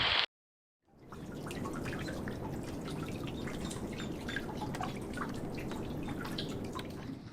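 Rainwater pouring off a boat's roof into a tank on a sailboat at an atoll lagoon, a steady close splashing and dripping stream that starts after a brief cut and runs without a break.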